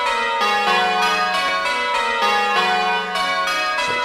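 Simulated church bells ring the Flying Dutchman method on a Virtual Belfry ringing simulator, with bright clanging strikes following one another in an even, rapid rhythm, loud and without talk.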